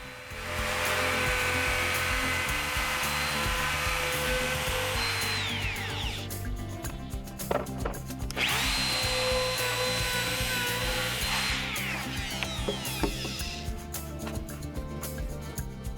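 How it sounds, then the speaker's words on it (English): A router fitted with a 1/8 inch roundover bit shapes the edge of a wooden rafter tail, a loud steady high whine with several passes broken by short pauses, heard alone with no talking. "Chuck a 1/8 inch roundover bit in a router, and use this to soften the corners of the cut you just made"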